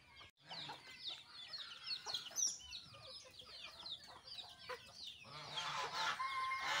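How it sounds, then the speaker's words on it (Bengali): Farm ducks and chickens clamour for their afternoon feed, a dense, fairly quiet chorus of overlapping clucks and squawks that builds toward the end. "এদিকে হাঁসগুলো চিল্লাচিল্লি করতেছে খাওয়ার জন্য"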